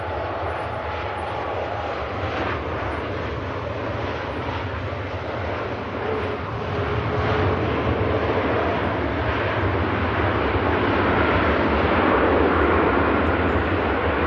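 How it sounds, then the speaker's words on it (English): Ryanair Boeing 737 MAX 8200 jet landing at Manchester Airport, a steady engine roar that swells louder partway through as the aircraft nears, with a faint whine over a low rumble and no talking. "Max 8200 touches down nicely"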